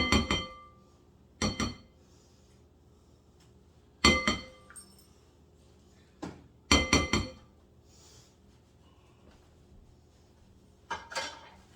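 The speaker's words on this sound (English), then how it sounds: "Get my spatula and scrape it all out here." A spatula scrapes and taps chocolate pecan pie bar batter out of a glass bowl, making several bright clinks and knocks in separate bursts, with quiet pauses between them.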